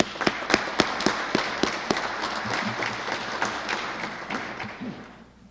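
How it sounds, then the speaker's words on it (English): At a police bureau award ceremony, an audience bursts into applause with a few sharp, close claps at first, then a full burst of clapping that tapers off near the end. "we can give him a round of applause, please."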